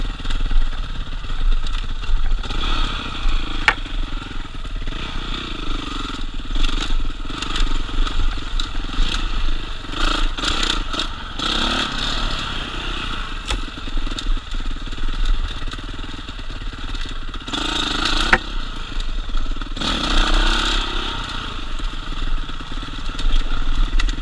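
An old Yamaha YZ motorcycle engine running while being ridden, a loud continuous engine drone with rising and falling revs and rough wind-buffeted noise throughout, with no talk over it.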